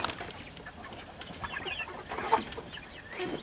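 Chickens clucking softly while being fed greens, a few short scattered clucks and calls close by over faint background noise.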